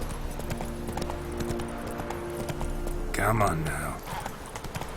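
Clip-clopping horse hooves in the Witcher 3 video game, a steady rhythmic gait under a man's spoken commands, with a brief louder swell of game sound midway.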